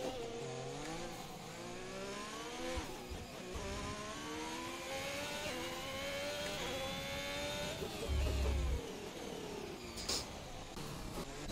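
Racing cars sweep past one after another on a track, their engines whining and rising and falling in pitch as each approaches and pulls away, loud and continuous with no talk.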